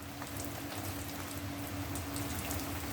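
Heavy rain pours down steadily outdoors near an allotment, a dense continuous hiss of drops splashing on surfaces with no pauses, close and loud throughout.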